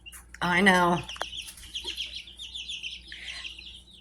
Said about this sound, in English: there's one of my cockerels